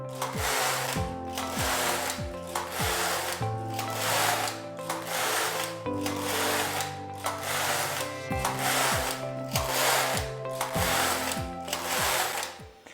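A Passap Duomatic 80 knitting machine works a beginner scarf, its carriage sliding back and forth in steady rhythmic passes, each stroke a loud mechanical whir and clatter, repeating about every couple of seconds with no talking.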